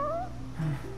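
A cat meowing in the video game Final Fantasy XV, one short rising-and-falling mew over a low steady game hum.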